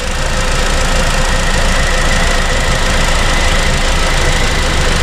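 A 2004 VW Jetta 1.8T engine idling with the blower motor at full fan and the headlights on: a loud, steady, dense mechanical drone with a faint tick, constant and close, no voices.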